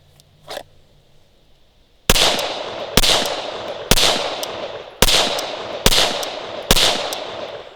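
Six sharp pistol shots from a Glock 19 fitted with a Trijicon RMR sight, fired outdoors at a silhouette target 25 yards away, come loud and close at a steady pace after a brief quiet opening.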